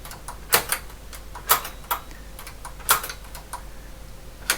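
Keys of an ASR33 Teletype keyboard pressed with shift held, a handful of sharp mechanical clacks spaced irregularly over a quiet mechanical hum.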